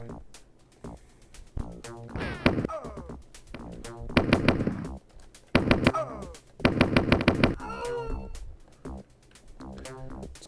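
Rifle gunfire in a video game, bursts of sharp rapid shots clustered in several volleys across the span, fairly close, with quieter gaps between.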